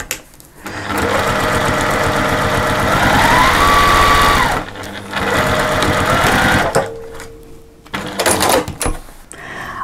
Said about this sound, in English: I've now stitched all around my pocket, so it's about a half an inch all the way around.